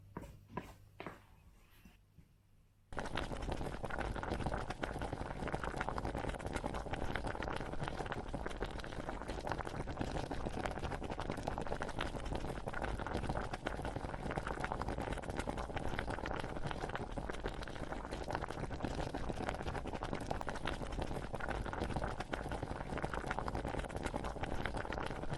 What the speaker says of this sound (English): with a spatula I'm going to just stir this around till the onions are softened and the vegetables are softened a bit